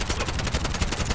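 Rapid automatic gunfire from the action shooter video game Bright Memory Infinite, played offline on mobile, sounds as a loud, dense, continuous burst of shots at an even fast rhythm throughout.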